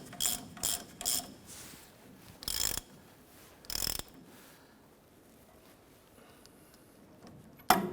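A ratchet tightens a nut on the inner tie rod of a 1993–1997 Ford Ranger. Several short, close bursts of clicking come in quick succession, then two more spaced bursts, with quiet between them and a final click at the end.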